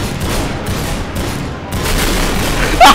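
Sustained weapon fire with booming impacts in a Garry's Mod City Life roleplay server, a dense, loud wash of shots and blasts with a brief chirping effect near the end.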